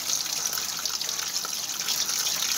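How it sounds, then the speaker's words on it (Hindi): Tap water gushing steadily over boiled macaroni in a strainer during cold-water rinsing, a continuous close splashing rush with no talk. "इस तरह से ये हम टैप ऑन करेंगे और इनको वॉश करेंगे अच्छी तरह से"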